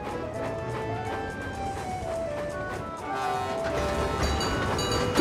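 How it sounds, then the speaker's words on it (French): Toby the little tram engine, number 7 in the cartoon, runs on rails with a steady rolling rumble and rattle, tonal squeals and hums drifting above, growing slightly louder toward the end. "Vous connaissez tous Toby, c'est le petit tramway de Chicalor."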